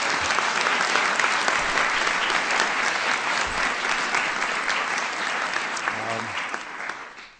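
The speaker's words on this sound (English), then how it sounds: "let's give Sophia a big round of applause" A large audience at a White House science fair applauds student Sophia, a full, steady roar of clapping that holds strong before tapering off at the very end, with faint low voices underneath.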